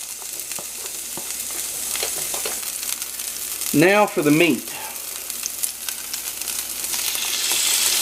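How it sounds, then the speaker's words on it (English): Red bell pepper and deer meat sizzling in hot oil in a pan, a steady soft frying hiss with a short burst of louder crackle as the meat goes in, while a person talks briefly. "When that starts sizzling, I know that the oil's getting hot."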